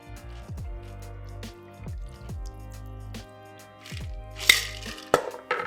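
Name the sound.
cocktail double strained into glass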